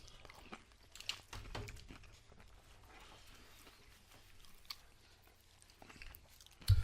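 Crunchy bites and chewing of fried chicken, close and fairly quiet, with several sharp crunches spread through a mostly quiet stretch and a louder bite at the end.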